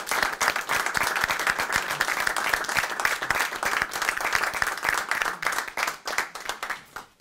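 Attendees at a regional county council meeting in Portneuf applaud honorees marking a 35th professional anniversary, sustained close clapping from a modest crowd with sharp individual claps, fading near the end.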